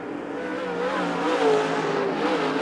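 A late model race car roars past during heat racing at Arizona Speedway, its engine note rising and falling as it passes close and loud, with the drone of other cars behind it.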